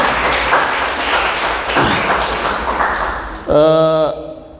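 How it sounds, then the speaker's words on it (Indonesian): An audience applauds a short-story writer at an Indonesian literary talk, steady clapping filling the room for several seconds, then a brief bright tonal chime as the clapping fades. "Kita beri aplaus dulu kepada Bang Agus ini."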